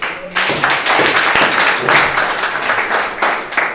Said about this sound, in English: Can we clap for ourselves?